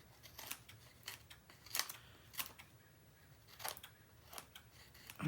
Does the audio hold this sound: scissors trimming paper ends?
yes